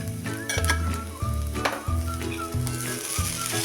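Poha stir-fried in a hot pan, a continuous crackling sizzle broken by repeated scraping and stirring strokes of a spoon, close and moderately loud, with no talking.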